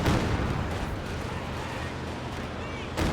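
In a World War II strategy game match, a heavy artillery barrage roars without a break as overlapping booms and blasts rumble under the game's noise, with a sharper burst near the end.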